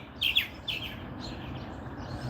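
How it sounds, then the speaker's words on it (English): Birds chirp and tweet on a morning walk outdoors, a few bright calls near the start and then scattered softer chirps over a steady low background hum. "Birds are making a lot of noise this morning."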